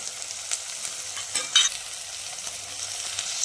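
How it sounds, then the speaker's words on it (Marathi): Vegetables and beans, including field bean pods, pigeon pea kernels and peas, sauté in oil in a pan, giving a steady soft sizzle with a few louder stirring scrapes partway through and no talking. "सर्व साहित्य तेलामध्ये छान असं परतून घेतलेलं आहे"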